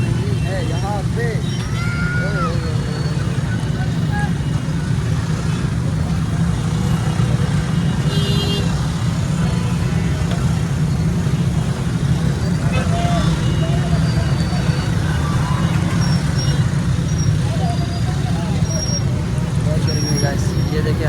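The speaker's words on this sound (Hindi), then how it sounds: "एक तो रश है और ऊपर से ट्रैफिक जाम है" A traffic jam on a busy street in Pakistan gives a dense, steady roar of engines and road noise, with a constant murmur of voices and occasional horns mixed in throughout.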